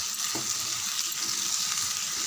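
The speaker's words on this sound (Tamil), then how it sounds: "நல்லா ஒரு 3 நிமிஷம் நல்லா வதக்கி விடலாம்" Boiled potatoes and green peas sautéing in a pan for a gravy, a continuous soft sizzle with occasional light stirring, close and without talk.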